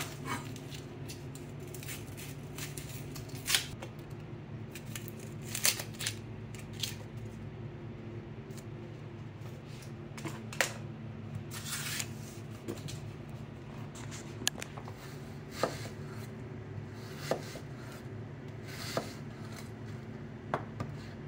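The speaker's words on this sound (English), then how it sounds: "I'm going to cut your onion up in little chunks" A knife chops an onion into small chunks on a board, with sharp, evenly spaced cuts that stay close and distinct over a steady low room hum, and no talking.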